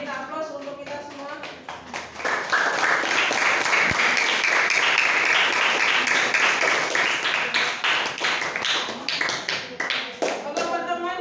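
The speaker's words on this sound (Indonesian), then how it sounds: "kita aplaus untuk kita semua" A classroom of students applauds together, a dense, sustained clapping that builds after a couple of seconds and carries on steadily to the end, with voices mixed in.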